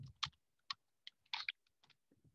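Keys tapped on a computer keyboard while web form code is entered, a short uneven run of distinct clicks with gaps between them and no talking.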